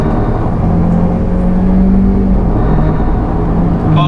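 A Honda CR-V, some 25 years old, accelerating along a short straight, its engine a loud steady drone with a slowly rising whir that continues throughout and is heard alone with no voices.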